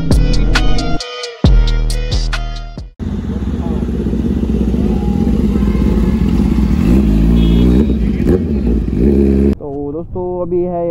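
A Kawasaki ZX-10R superbike on a group ride makes a loud, close, sustained engine drone with shifting revs, framed by short musical passages at the start and end.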